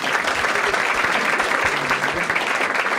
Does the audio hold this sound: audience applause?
yes